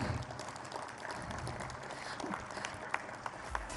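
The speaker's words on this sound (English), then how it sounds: "Ladies and gentlemen, a huge round of applause." A seated audience at a business excellence awards ceremony gives a sustained, fairly faint round of applause, with scattered louder claps near the end.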